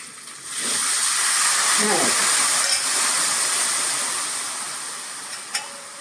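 Water hits a hot Marathi-style tempering with green chili for a horse gram usal and kalan and bursts into a loud, steady sizzling hiss that lasts several seconds, then slowly fades, ending with a small clink.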